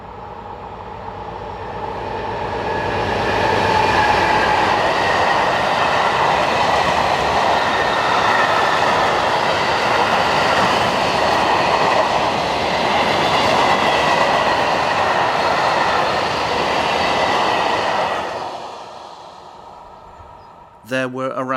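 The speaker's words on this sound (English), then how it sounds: "Some services are operated by diesel locomotives, such as this cement train" A heavy diesel locomotive hauling a long cement train rumbles past, a steady roaring engine and rolling wheels building, holding, then fading away at the end.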